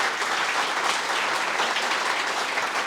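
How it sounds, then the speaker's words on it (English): An audience at an academic lecture gives the speaker a loud, steady round of applause, dense clapping that holds evenly for the whole stretch without speech. "let's give Len another round of applause."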